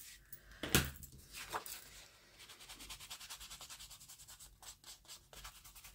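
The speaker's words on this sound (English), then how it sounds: "I'm just quickly going to give those two pieces just a bit of ink." Ink is applied to torn paper edges for a junk journal flip book with a quiet, rapid, rhythmic dabbing and rubbing, close up, after a sharp knock at the start.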